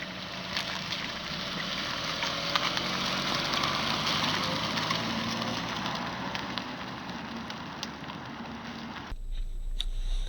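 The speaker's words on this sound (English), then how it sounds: "now we are just getting to the test drive of the 2019 Chevrolet Equinox. Just pulling out of the lot here" 2019 Chevrolet Equinox Premier pulling out of a dealership lot on a test drive, a steady engine and road rumble with interior noise that stays constant for about nine seconds before dropping off abruptly near the end.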